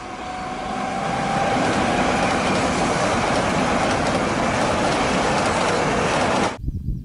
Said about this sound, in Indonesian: ada kereta super cepat